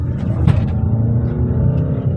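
A Kia Carnival Limousine Plus pulls hard at full throttle, its engine holding a steady low drone from inside the cabin, with a brief sharper swell partway through and no voices.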